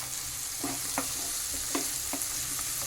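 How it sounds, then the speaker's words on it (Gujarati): Semolina roasting in a pan for upma and being stirred with a spoon, with soft scraping strokes in a loose rhythm over a low, steady hiss, close and quiet. "ધીમે ધીમે શેકાવા લાગે છે."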